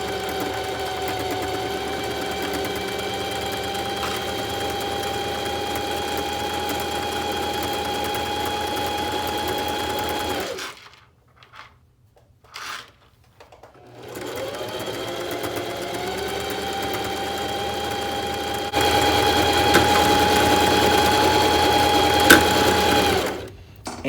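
A sewing machine sews a quilted jacket shoulder seam with a steady, close motor hum and stitching rhythm that runs long, stops briefly with a few small clicks, then resumes at a slightly louder pitch.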